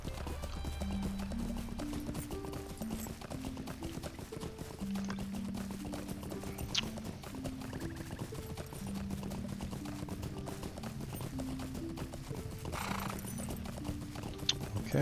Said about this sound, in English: So we can use our horse,